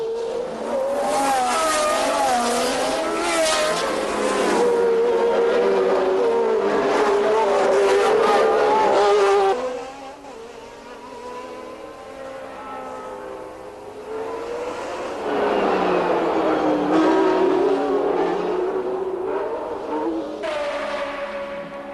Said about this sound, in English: Patrase's engine seems to falter